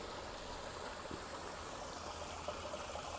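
Water swirling and trickling steadily in a bioponics tank vortex, a soft, continuous close-up stream sound with no voices.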